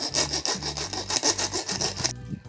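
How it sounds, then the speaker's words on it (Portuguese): A small handsaw cutting through wood in quick, steady back-and-forth strokes, loud and close, about eight rasping strokes before it stops. "terminei de serrar aqui"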